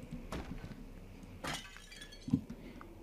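Several sharp crashes of objects being smashed in the video game Amnesia: The Dark Descent, with a bigger smash near the middle and a final crisp break, against a quiet background.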